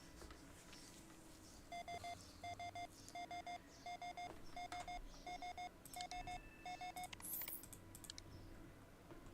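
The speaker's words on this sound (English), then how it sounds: "when you hear the beeping sound" An alert in the space salvage game Ostranauts sounds as a series of short, evenly spaced electronic beeps in a steady rhythm, over a quiet low hum.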